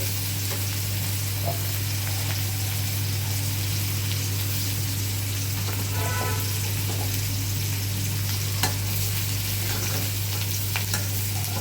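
Shredded cabbage and ground coconut fry in a pan, giving a steady close sizzle with faint scraping from stirring that runs throughout, no talking.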